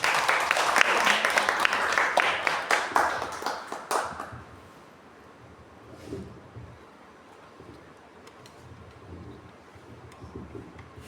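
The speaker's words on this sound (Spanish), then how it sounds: "Si le pueden dar un fuerte aplauso" Audience applause at a book presentation in Asunción, a burst of hand clapping with scattered sharp claps over the first four seconds, then fading into quiet room noise with faint murmurs.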